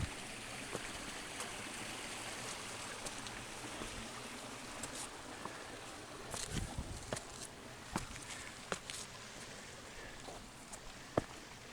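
A creek beside a hiking trail in Mission Trails Regional Park flows with a soft, steady trickle, faint and constant, with occasional light footsteps and brief clicks.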